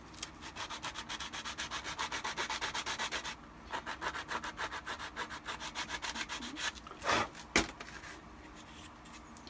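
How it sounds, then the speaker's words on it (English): Rapid, rhythmic scraping strokes of sandpaper rubbing a hard plastic armor piece, close up and steady, then a few knocks and slower rubs. "This could actually use a little sanding."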